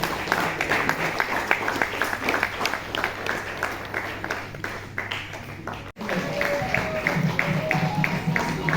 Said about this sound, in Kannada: ಜೋರಾದ ಚಪ್ಪಾಳೆಯಲ್ಲಿ